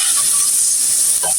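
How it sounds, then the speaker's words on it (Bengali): Spices with chili powder and salt fry loudly in a pan for a pangas fish curry, a dense continuous sizzle and hiss up close, with a brief scrape of stirring near the end. "মশলাটুকু কষিয়ে নিব।"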